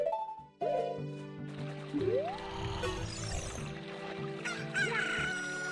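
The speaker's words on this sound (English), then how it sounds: "Is this the time everybody has to be calling out the chickens here?" Chickens cluck and a rooster crows in The Legend of Zelda: Ocarina of Time, with layered game sound effects and music over several seconds of busy, overlapping fowl calls.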